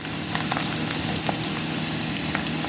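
Chopped onions fry in a hot pan with a loud, dense, steady sizzle and occasional crackles, close up and without voices.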